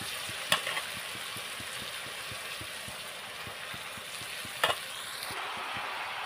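Boiled potato pieces fry in a pan, a soft, low sizzle with steady faint ticking and two brief sharp clatters as they drop in. No one talks.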